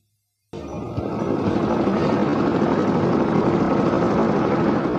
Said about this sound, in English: The engine started and he couldn't hear anything else. The helicopter took off